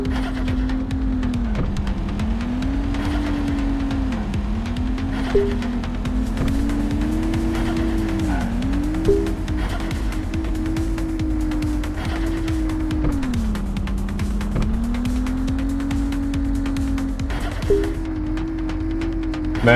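Cars racing around a circuit in the driving game Drive Me Broke, engines droning steadily with rising and falling pitch as they shift gears, loud and continuous throughout with occasional tire squeal.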